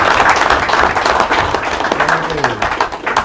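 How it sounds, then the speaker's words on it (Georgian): A seated audience at a municipal council session in Marneuli bursts into steady, dense applause lasting the whole moment. A voice carries over the clapping from nearby. "აპლოდისმენტებით მიულოცოთ ბატონ შაბანს"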